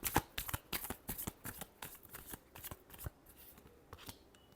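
Tarot cards being shuffled by hand in a quiet room, a rapid run of crisp riffling snaps and soft slaps that keep a steady rhythm for several seconds, close and fairly faint, with no voices.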